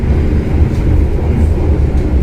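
A Jayakarta passenger train from Surabaya to Pasar Senen passes near Kutoarjo, heard from aboard another train as a loud, steady low rumble and roar of wheels and cars without a break.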